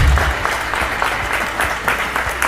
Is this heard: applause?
yes